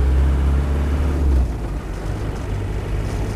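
A Land Rover Defender 90 200Tdi station wagon with an LT77 gearbox driving, a loud steady diesel engine drone and road rumble with a deep tone that shifts and drops partway through.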